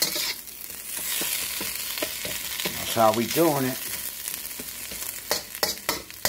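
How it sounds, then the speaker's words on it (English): Chicken fried steak sizzles and fries steadily in a pan, with stirring and scraping clatter on top, while someone speaks briefly in the middle. "Then I'm gonna get to frying that chicken fried steak."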